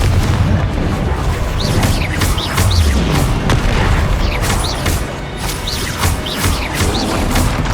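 Repeated booming blasts from the Confringo fire spell in the video game Hogwarts Legacy burst out amid a busy combat mix of magical impacts and crashes.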